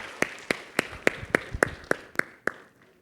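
An audience at a tech innovation event claps a few sharp, separated times. The claps come at a steady, almost rhythmic pace, then stop after about two and a half seconds. It sounds more like a handful of people than a full crowd.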